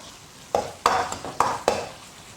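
Minced pork-style meat stir-fried in a little hot oil in a wok, four quick scraping stirs of the spatula over a steady sizzle, close and fairly loud.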